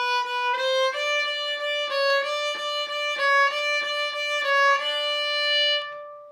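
A viola plays a repeating pattern of three quick even notes per beat, each group of three standing in for a dotted eighth, in a steady, clear melodic line that ends on a held note; no talking.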